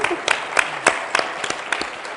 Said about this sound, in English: We'll clap, yes.